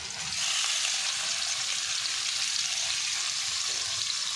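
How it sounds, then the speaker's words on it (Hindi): Chicken pieces frying in plenty of hot oil in a pan for a curry, a steady, loud, hissing sizzle that holds evenly throughout with no talking. "तेल गर्म हो गया, अब हम इसमें चिकन डाल देते हैं।"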